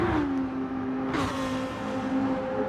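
Race cars run on a track, a steady engine hum with a falling then level pitch and a brief brighter surge as another car nears, continuous and moderately loud with no speech.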